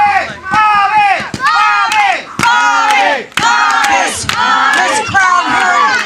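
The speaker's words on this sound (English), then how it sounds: "This crowd here in Clay City calling for the Mastermind Bobby Rogers." A crowd at a trainee wrestling show in Clay City chants and shouts in loud, rhythmic bursts, repeated calls rising and falling with short gaps and sharp claps or thuds between them.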